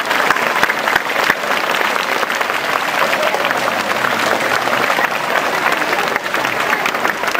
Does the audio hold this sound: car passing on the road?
no